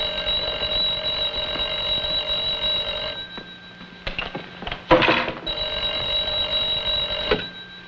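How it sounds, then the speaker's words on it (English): Old-fashioned telephone bell ringing loudly in a 1950s crime drama, two long trilling rings separated by a short pause with scuffling noise, no talking. "Kovac, answer the phone."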